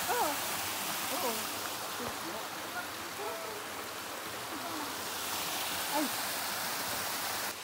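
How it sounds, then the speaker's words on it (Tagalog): A waterfall in the Philippines pours into a deep swimming pool, making a steady, broad rushing roar throughout, with faint voices talking underneath. "Ito yung unang falls na napuntahan namin."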